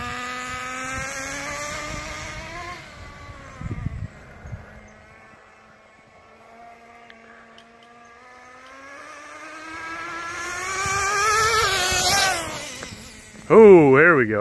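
A Traxxas Jato 3.3 nitro RC car engine whines in a high, buzzing drone that rises and falls in pitch. It fades into the distance midway, then returns loud and close with rapid revving at the end.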